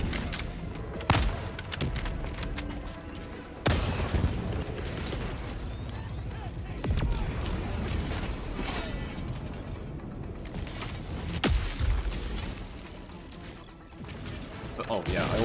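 Grenade blasts in Helldivers 2 during a solo Super Helldive invasion fight, with several loud booming bursts amid constant mechanical clatter and crashing battle noise.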